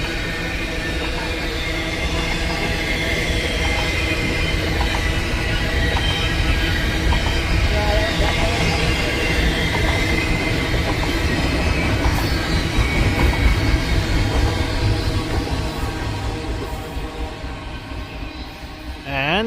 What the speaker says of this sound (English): There is the end of the train.